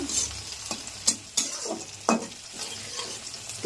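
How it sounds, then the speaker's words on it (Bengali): Red amaranth greens stir-fried in a pan, with close, loud hissing sizzle broken by repeated spatula scrapes and knocks at an irregular pace and no talking. "লাল শাক রান্না করব। রান্না ভাজা"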